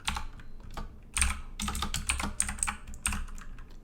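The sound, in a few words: typing on a computer keyboard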